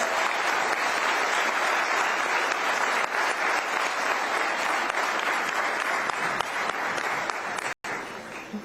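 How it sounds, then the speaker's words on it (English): Loud, sustained applause from a large summit audience, dense and continuous clapping for several seconds before a brief break. "Audiences, I think she deserves a big round of applause."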